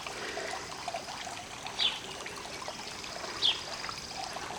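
Water trickling and splashing steadily from a fountain in an outdoor pond, a soft continuous stream heard at moderate distance, with two brief faint chirps above it.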